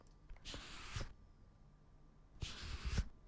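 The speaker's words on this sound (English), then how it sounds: "I recorded some classic page turns." Paper book pages flip in two separate quick bursts of crisp rustling, close and fairly quiet, with a near-silent pause between them.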